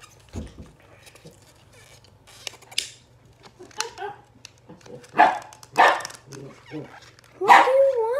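A pet dog barks several times in short sharp yaps and whines, close and fairly loud, with a person talking in between.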